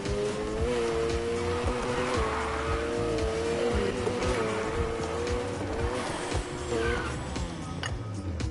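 A car drifting in Need for Speed, with a sustained, wavering tire squeal over a steady engine drone throughout, close and fairly loud, with no talking.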